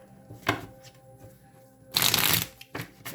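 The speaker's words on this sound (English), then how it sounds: "I'm going to shuffle again." Tarot cards are shuffled by hand close up, with a short riffle followed by a longer, louder rustling burst and a brief final flutter. No one speaks.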